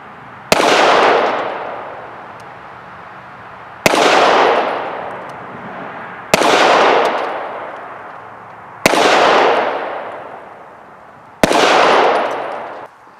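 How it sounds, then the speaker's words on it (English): Five loud pistol shots from a Glock 19 fitted with a Trijicon RMR, firing Federal HST 124 grain standard pressure rounds at an outdoor range, evenly spaced about two and a half seconds apart, each sharp crack trailing off in a long echo. "Alright, that was 5 rounds, 10 yards."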